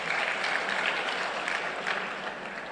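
Audience applause at a university alumni assembly, a steady, dense clapping from a large hall crowd, continuous and fairly loud with no voices over it.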